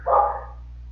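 A single short bark from one of several dogs kept indoors, fairly near and loud over a steady background hum.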